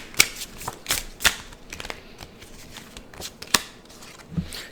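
Tarot cards being shuffled by hand, a run of short, crisp riffling flutters and soft slaps, close and irregular, with quiet pauses between bursts.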